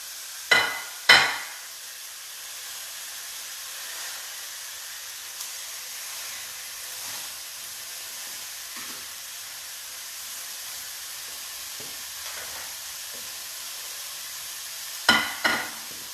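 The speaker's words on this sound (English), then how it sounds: "So I'm just going to start sauteing." Ground venison starts sautéing in a pan with a faint, steady hiss. A few sharp clatters of the utensil against the pan come at the start and near the end. No one talks.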